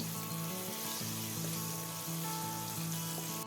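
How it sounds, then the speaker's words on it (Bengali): Bay leaf, cumin and green chillies sizzle in hot oil as a steady, moderately quiet crackle, with a faint hum running beneath. "তারপর কয়েক সেকেন্ড একটু নেড়ে চেড়ে ফোড়নটাকে একটু ভালো করে ভেজে নেব"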